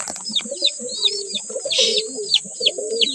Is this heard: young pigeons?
yes